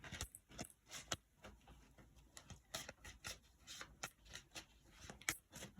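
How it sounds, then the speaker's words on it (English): Tarot del Fuego tarot cards shuffled close up, a faint run of quick papery riffles and taps in irregular bursts, with no talking over them. "Let me shuffle these cards."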